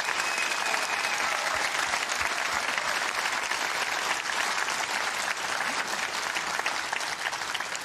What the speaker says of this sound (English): A round of applause for 2 great finalists